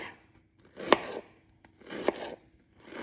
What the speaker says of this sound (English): And you can tell I'm slicing these fairly thin